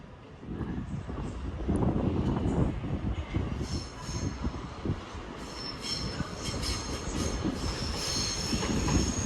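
A train rolls through Manchester Piccadilly station, a steady rumble of wheels on rails with occasional high squeals from the wheels, heard from the platform at moderate distance.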